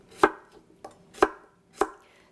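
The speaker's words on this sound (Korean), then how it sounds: "한 입 크기로, 입에 쏙쏙 들어가는 크기로 동글동글하게 이렇게 썰어도 되고" A knife chops pre-salted cucumber into bite-sized rounds for cucumber kkakdugi, giving three sharp, close board knocks and one softer one in a steady, unhurried rhythm, with no talking.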